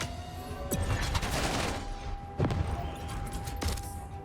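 Weapons fire in the mech strategy game Mecharashi: three sharp shots land over a steady bed of battle noise and rumble.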